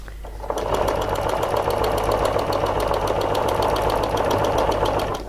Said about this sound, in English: I can stitch down here and get a 1/4 inch seam